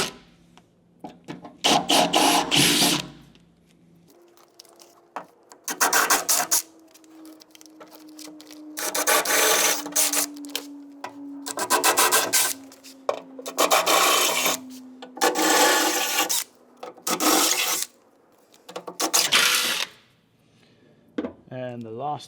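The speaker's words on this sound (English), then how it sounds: "We're going to drill out these 10 holes to get the nutserts to fit" A drill bores out holes for nutserts in the steel barn door of a Landcruiser 76/78 Series, sounding as a series of loud, harsh grinding bursts of a few seconds each, separated by short pauses, with a faint tone beneath.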